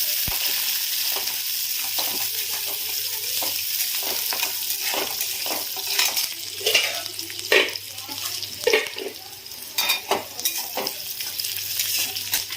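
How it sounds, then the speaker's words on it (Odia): Onions frying in a pan give a steady hiss and sizzle. Repeated spoon scrapes and stirring strokes sit on top, close and fairly loud, with no talking. "ପିଆଜ ଟିକେ ଭାଜି ହେଇଗଲାଣି।"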